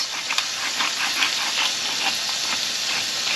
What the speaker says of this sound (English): I'm just going to let them cook in the bacon fat